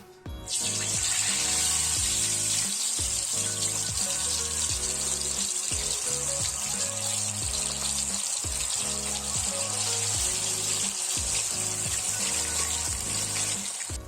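Spicy chicken broast pieces frying in hot oil in a kadai over medium heat, giving a steady, loud sizzling hiss that runs without break alongside a rhythmic low background beat.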